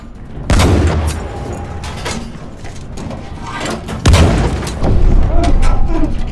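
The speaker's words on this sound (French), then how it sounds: "Et il y a un bombardement." Bombardment and gunfire in a video game: heavy booms and shots hit amid constant game noise, with one strong blast near the start and another midway, while players talk over it.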